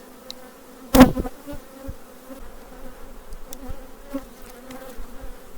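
Bees buzz around nearby, one passing loudly close up near the start, others droning faintly in the background with outdoor ambience, on a windy day.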